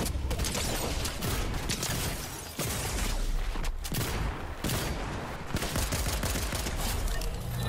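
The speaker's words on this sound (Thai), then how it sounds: "มีเสียงยิงปืนยิงกันทางซ้าย" Dense, continuous gunfire in the video game Fortnite: loud automatic bursts and rapid shots overlap almost without pause, with one short dip partway through.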